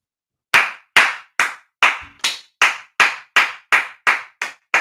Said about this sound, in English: That clap was loud